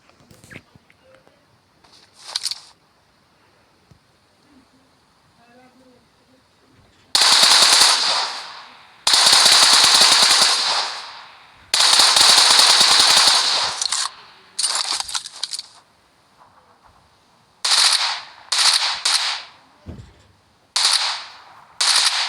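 Bursts of automatic machine gun fire in a video game, several long loud volleys and shorter rattling bursts with brief gaps, plus faint quieter moments between.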